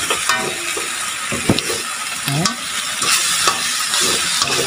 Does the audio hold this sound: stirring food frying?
yes